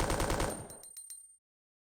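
Gunfire in the 1998 game Resident Evil 2, a loud dense burst of rapid shots that thins into a few separate cracks and ends abruptly.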